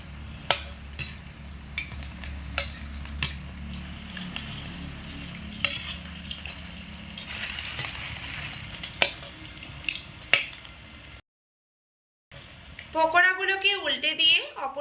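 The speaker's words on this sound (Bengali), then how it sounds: "অল্প অল্প করে দিয়ে কিন্তু ভেজে নিতে হবে।" Potato pakoras frying in oil, with a steady crackle and sizzle broken by sharp pops and clicks, a short silent gap, then a voice speaking over it.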